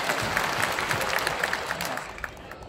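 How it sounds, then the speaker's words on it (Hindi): An audience applauds at a celebration event, and the dense clapping stays loud and steady throughout before easing slightly toward the end. "आपके लिए एक तालियां दे दीजिए।"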